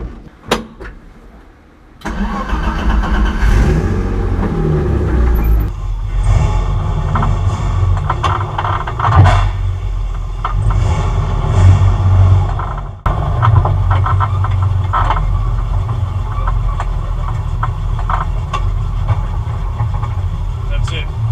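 A BMW E30 race car engine runs steadily at close range, a low continuous drone with mechanical rattles that starts after a brief quiet moment and holds on, while people talk over it.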